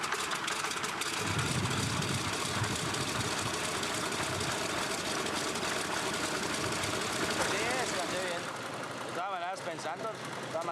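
A repaired aircraft engine runs on a Sadelka plane in the Colombian Amazon, a loud, steady, continuous roaring drone that holds for about nine seconds before dropping slightly near the end.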